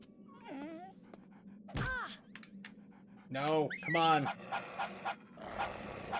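A dog whimpers and whines in the Metal Gear Solid video game, with a few rising cries, a dull thunk and panting-like bursts over low game ambience, while a voice speaks briefly.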